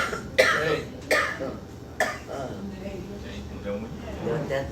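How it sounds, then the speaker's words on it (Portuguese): A few sharp coughs or throat clearings ring out at separated moments inside a church during a sermon, set against a murmuring room background. "Essa tosse tem um significado."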